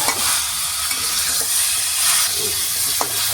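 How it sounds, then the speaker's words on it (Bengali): Chicken with whole garlic cloves frying and sizzling in a pan, a steady broad hiss with stirring scrapes throughout, close and fairly loud, with a sharp clink near the end. "দিয়ে দিচ্ছি কয়েকটা আস্ত রসুন, যেটা খাওয়ার স্বাদটাকে আরো বাড়িয়ে তুলবে।"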